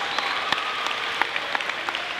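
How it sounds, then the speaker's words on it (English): An audience gives a round of applause for football players heading to the state finals: steady, moderately loud clapping from a crowd with no talking. "Let's give these guys a round of applause."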